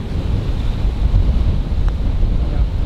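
Wind gusting across an open golf course, a steady low rumble buffeting the microphone throughout with no clear break.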